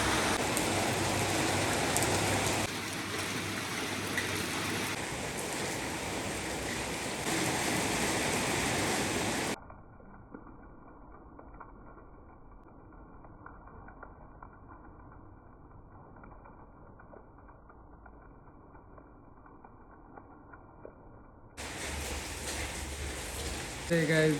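Steady rain falls outside, a dense hissing wash that is loud at first, drops away to a faint muffled patter for a stretch, then returns at full strength, with no talk over it.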